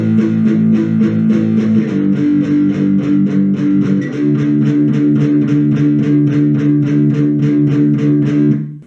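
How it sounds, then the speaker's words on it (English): A distorted electric guitar chugs a steady rhythmic riff, palm-muted chords repeating evenly, with a chord change partway through before it stops. "what we play on the rhythm guitar is actually what we play throughout the whole verse"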